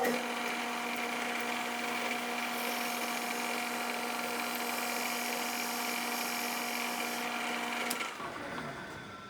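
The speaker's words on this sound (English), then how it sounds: "So I have a 5/16 drill in there. I'm gonna drill it about 3/4 of the way through." A 5/16 inch drill bit in a Bridgeport mill bores into a metal golf club shank, a steady high whine with ringing tones that holds for about eight seconds, then cuts off and winds down.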